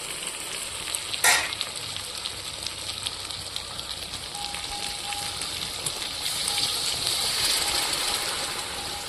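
Water goes into a sizzling pan of chicken and potato curry, a steady bubbling hiss with a sharp splash near the start and continued frying noise throughout, no voices.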